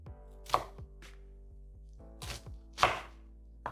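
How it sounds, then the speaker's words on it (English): A knife chops down through the top of a whole garlic bulb on a board, giving a few sharp, close, dry cuts spaced irregularly, with quiet gaps between them and no talking. "I just like to cut off the top just a little bit to allow that smoke flavor to get into our garlic cloves"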